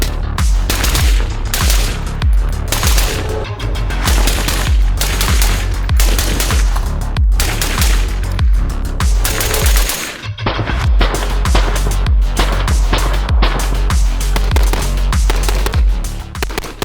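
Rapid rifle gunfire at an outdoor shooting range, an AR rifle with a red dot optic firing fast strings of loud, close shots, with one short pause partway through.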